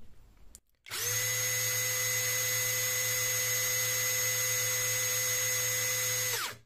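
Kamolee 450 first-generation cordless drill spinning up and held at top speed, a loud steady motor whine with a sustained high tone that runs unbroken for several seconds, then winds down at the end.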